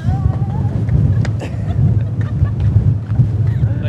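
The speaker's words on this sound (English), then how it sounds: "if you come onto the top, it is very, very windy" Strong wind buffets the microphone in a constant low roar on a ferry's open top deck in Greece, with a deep engine rumble and brief faint voices underneath.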